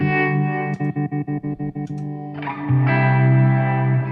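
Guitar chord through a Flint tremolo pedal pulsing in a fast, even on-off tremolo, then switching to a smoother sustained tone with a swelling, warbling effect.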